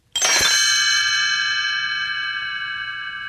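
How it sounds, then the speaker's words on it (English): A single bright strike of a small bell, its clear ringing tone lingering and slowly fading away. "it is time to turn the page when Tinker Bell rings her little bells like this."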